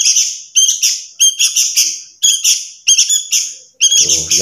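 Twenty-day-old sooty-headed bulbul (kutilang) chicks call loudly, with repeated bursts of shrill, high chirps in quick clusters separated by short pauses, very close. A low thump sounds near the end.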